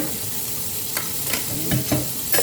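Garlic and plenty of onions sauté in oil in a pan, giving a dense steady sizzle with a few sharp spatula scrapes and knocks toward the end, close by and without speech.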